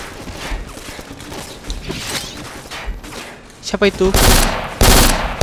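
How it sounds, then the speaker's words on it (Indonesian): Gunfire in a shooter video game on Xbox Series S, in a foundry mission: scattered shots, then loud, dense automatic bursts near the end, with someone talking briefly over them. "Nggak kena-kena, guys, kalau nembak dari sini."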